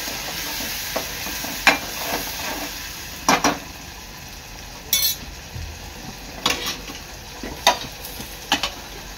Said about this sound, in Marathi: वाटण चांगलं तेलात मिक्स करून घ्यायचं आहे।